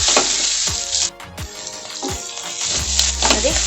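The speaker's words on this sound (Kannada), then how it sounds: "ನೋಡಿ, ಹೈ ಫ್ಲೇಮಲ್ಲೇ ಫ್ರೈ ಮಾಡ್ಕೊಂಡಿದ್ದೀನಿ" Chopped vegetables stir-fried over a high flame for Schezwan veg fried rice, loud crackling sizzle with repeated scraping and tossing strokes, close and without talking.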